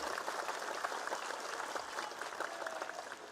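A crowd at a political rally in Maharashtra claps steadily, a dense and even wash of applause that holds for a few seconds at moderate loudness.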